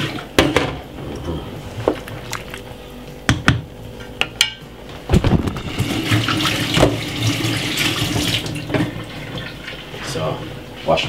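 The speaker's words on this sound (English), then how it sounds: "Wash my hand." Hands rinsed under a running kitchen tap during soup cooking, a steady splashing water stream with occasional clinks and knocks in a home kitchen.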